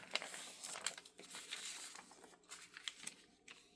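Paper or fabric being folded by hand for a no-sew journal, with close, quiet crinkling and rustling in irregular bursts and no voice over it.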